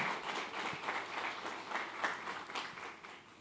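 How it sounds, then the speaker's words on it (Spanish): A church congregation applauds during a Spanish-language sermon, a dense steady clapping that swells and thins slightly over a few seconds at moderate volume, with no voices rising above it. "¿Cuántos le dan un aplauso al Señor?"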